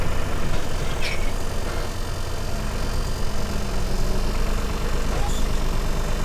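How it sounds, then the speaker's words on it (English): Steady mechanical drone of an idling Valmet 505T tractor engine with a whirring fan running continuously, close by, with no clear breaks. "that's the noise from the fan"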